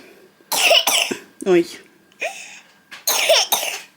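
A 10-month-old baby girl coughs in several short, harsh bursts, close and fairly loud, with brief gaps and a soft adult exclamation between them.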